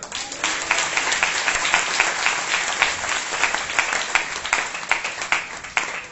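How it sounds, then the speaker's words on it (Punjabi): A church congregation applauds during a sermon, a dense, steady wash of many hands clapping at close range that holds for several seconds, fading slightly near the end. "ਪਰਮੇਸ਼ਰ ਵਾਸਤੇ ਤਾੜੀਆਂ ਲਗਾਈਏ ਫਿਰ"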